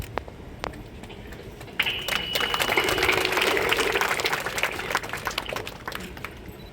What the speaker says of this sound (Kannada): ಯಾಕೆ ಚಪ್ಪಾಳೆ ಹೊಡೆದ್ರಿ?